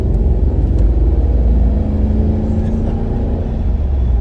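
A Holden VS Acclaim swapped with a 5-litre V8 drones loudly and steadily while driving at moderate throttle, a deep rumbling engine note that holds constant throughout.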